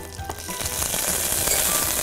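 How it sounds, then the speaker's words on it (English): Mustard seeds, curry leaves and ginger hit hot oil in a pan and sizzle steadily, a close, bright crackling hiss with small pops for Mirch Ka Salan. "as soon as the oil gets heated, add mustard seeds, curry leaves, ginger,"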